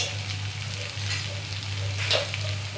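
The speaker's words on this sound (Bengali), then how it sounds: "আর এদিকে আমার আমের চাটনিও মোটামুটি ফুটে গেছে।" Mango chutney bubbling and simmering in a pan on the stove, a steady close sizzle with a low hum underneath and a few brief clinks, no voices.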